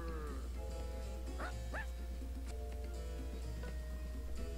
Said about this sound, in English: a dog barking?